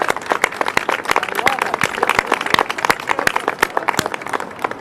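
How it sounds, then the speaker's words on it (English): A crowd at a ferry landing event with the mayor claps in loose, uneven bursts, sharp individual claps standing out close by amid chatter. "Let's give her a big round of applause."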